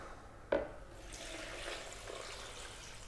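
Coconut water poured into the jug of an Optimum G2.3 Platinum Series induction blender, a soft splash at the start followed by a quiet continuous trickle close by.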